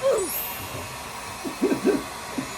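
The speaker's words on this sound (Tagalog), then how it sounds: "Maswerte na rin ako may nagbo-blower sa buko." An electric hair dryer blows steadily on someone's hair, humming continuously while a few people talk over it.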